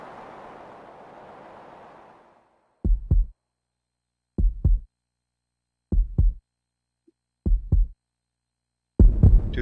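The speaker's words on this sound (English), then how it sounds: "the controller vibrations with that heartbeat are insane" A heartbeat from the game Chrono Cross, heard as four clear, deep double thumps spaced evenly apart after a fading rush of noise, with a louder thump at the very end.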